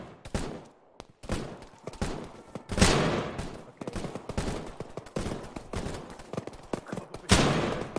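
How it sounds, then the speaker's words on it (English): Heavy gunfire during a milsim operation, bursts of rifle and machine-gun shots cracking out in irregular clusters with brief gaps between volleys, loud and close. "So we're taking some heavy fire north, bro"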